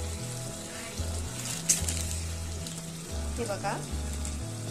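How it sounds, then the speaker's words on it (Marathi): Spices sizzling in oil and butter in a pan while cooking Mughlai chicken, a steady close frying hiss that runs throughout beneath a short spoken remark and background music. "सो आता हे आपण फुल 5 मिनिट्स मस्तपैकी परतून घेऊया आपल्या तेलात आणि बटरमध्ये"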